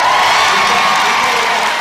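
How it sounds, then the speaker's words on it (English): Spectators at a show jumping event whistle and cheer in a dense, loud, sustained roar of crowd noise with no gaps, filling the whole short moment. "You can hear whistles from the crowd there"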